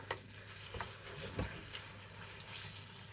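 Thinly sliced beef frying in a pan for a beef and spinach dish, a quiet steady sizzle with a few soft stirring scrapes and light clicks, no talking.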